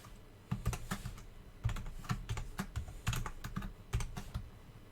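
A password being typed on a computer keyboard, bursts of quick close key clicks and taps coming in several clusters with short gaps between them, no voices.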